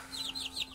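Hen clucking beside her young chicks, with quick chirping peeps from the chicks in a dark coop, close and repeated in a short burst.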